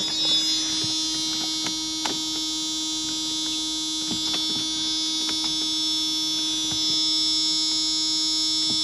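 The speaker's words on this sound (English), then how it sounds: "Oh, we got a buzzer." A steady electronic warning buzzer sounds continuously inside a 1992 Mercedes 400SE as the ignition is tried, holding a constant tone throughout, with a few faint clicks and knocks underneath.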